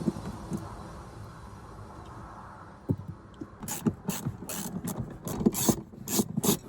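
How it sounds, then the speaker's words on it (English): Hex (Umbraco) screws being backed out of BMW E39 523i Touring interior trim, heard as a run of close, sharp clicking and ratcheting bursts after a few seconds of quiet room hum. "Now you'll have to remove these two Umbraco screws. And you start by removing them, like so."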